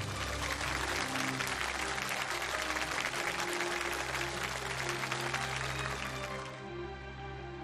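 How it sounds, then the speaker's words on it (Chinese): Warm, sustained audience applause at a televised award ceremony honouring police officers, a dense even roar of clapping that fades slightly near the end. "让我们用最温暖的掌声有请他们"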